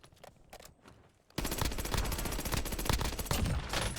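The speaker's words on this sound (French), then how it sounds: "Puis des tirs" Rapid automatic gunfire from the video game Rebirth, a few sparse shots at first, then a loud, dense burst of continuous firing that persists to the end.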